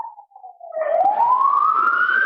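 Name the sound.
police sirens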